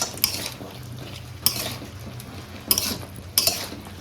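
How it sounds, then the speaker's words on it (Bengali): A spatula stirs vegetables and crushed green chili in a pan, giving four sharp metallic scrapes and clinks spaced through a quiet kitchen background, with no voices. "একটু কাঁচা লঙ্কা দিয়ে নিই, যে কাঁচা লঙ্কাটা আমি বাটলাম ওটাকে দিয়ে নিই। একটু নাড়াচাড়া করে দিই।"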